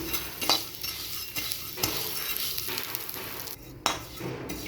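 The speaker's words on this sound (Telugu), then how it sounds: "ఈ ఆయిల్లో కొంచెము ఈ బ్యాంబినో వేసి వేయించుకోవాలండి. మంచిగా వేయించుకోవాలండి." Bambino vermicelli frying in oil in a pan while being stirred: a steady, close sizzle broken by repeated scraping stir strokes, with no talking.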